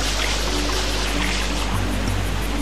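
Steady rushing waterfall in the Super Mario Sunshine video game, a constant broadband wash of falling water with a low hum beneath, continuous and even throughout.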